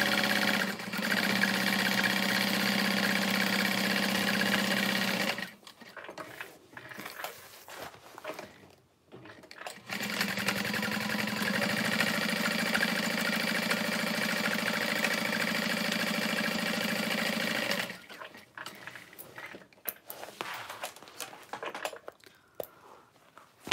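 A Juki DU-1181N industrial walking-foot sewing machine stitching at a 4.5 stitch length, running in steady loud bursts of about five and eight seconds separated by pauses, with handling noises in between.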